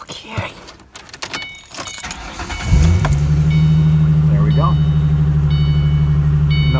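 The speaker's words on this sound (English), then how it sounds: "let me grab my keys, start it real quick just to make sure that everything is A-okay" Car keys jangle close by, followed by the starter cranking and a car engine catching into a steady, loud idle.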